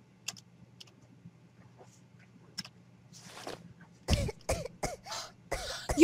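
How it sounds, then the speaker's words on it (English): A video game character in Pocket Mirror coughs several times in a short rapid series near the end, loud and close over a faint low background hum. "Well, I cough."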